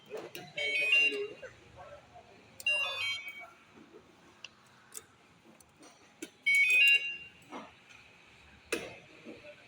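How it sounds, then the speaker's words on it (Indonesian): Short electronic alarm chirps from a U-Winfly electric motorcycle sound a few times, separated by quiet stretches with faint handling noises and light background sound. "mau matiin suara alarm yang kayak tadi dinyalain"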